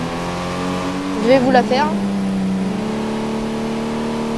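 A car engine in the driving game Real Driving Sim revs and accelerates, a rising whine over a steady hum, with someone talking over it in French.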